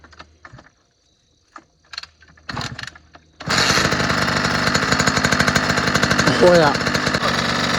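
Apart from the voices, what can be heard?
two-stroke engine being started and idling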